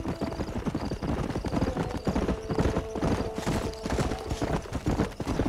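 Horse hooves clip-clop in a steady, close walking rhythm, with a brief snort or whinny mixed in, from the video game Knights of the Old Republic on the original Xbox.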